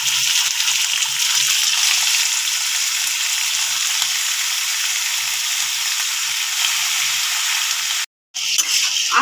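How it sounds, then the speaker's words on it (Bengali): About 500 grams of prawns with onions sizzling in oil in a pan over low flame, a steady bright frying hiss with soft stirring scrapes, cut briefly by a short silent gap near the end. "চিংড়ি মাছটা আমি এর ভেতরে দিয়ে দিচ্ছি।"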